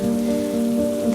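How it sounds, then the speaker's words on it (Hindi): Heavy unseasonal rain pours down steadily, a dense, continuous hiss that stays loud throughout, with a faint, steady hum underneath. "तभी जोर जोर से बारिश शुरू हो जाती है"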